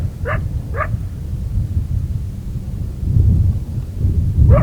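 Coyote calling at a distance of about 400 yards, three short rising yips or howl fragments heard faintly over a steady low rumble of wind.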